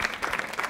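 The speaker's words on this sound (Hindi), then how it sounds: "तालियां जोरों से बजाइए मीना जी के लिए" Brief burst of studio audience applause for a contestant on a Hindi quiz show, a short flurry of clapping heard only for a moment.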